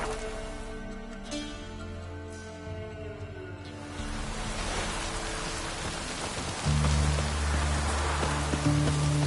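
Steady rain in the video game The Witcher 3 hisses continuously, with low droning tones underneath that grow louder partway through.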